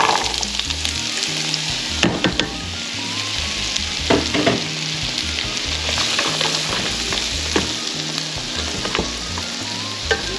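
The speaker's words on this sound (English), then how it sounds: "we're going to saute our rhubarb and our carrots" Rhubarb and carrots sauté in butter in a pan with a continuous close sizzle and crackle, broken by occasional scraping stirs and clinks, no voices over it.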